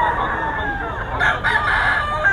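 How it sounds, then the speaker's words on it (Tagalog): A rooster crows loudly and close at a busy pet market during the Christmas season, its long strained call stretching over a steady crowd murmur. "may gulang ang mga manok ni Boss Jeff"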